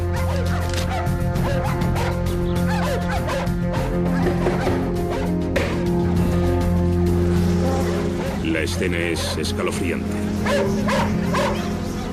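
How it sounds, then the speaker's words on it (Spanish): Several dogs tied up in a garden bark and yip frantically in rapid, overlapping bursts, close and loud, as African killer bees attack, while someone talks over them. "De repente, empiezan a ladrar frenéticamente."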